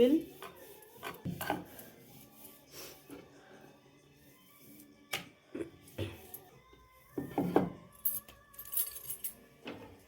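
An aloo paratha dough being rolled out with a rolling pin, giving soft irregular rubbing and knocking strokes in short bursts, fairly quiet and close, with occasional sharper clacks.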